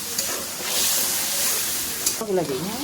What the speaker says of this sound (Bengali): জল দিয়ে ভালো করে কষিয়ে নিচ্ছি, যাতে আমটা সিদ্ধ হয়ে যাবে।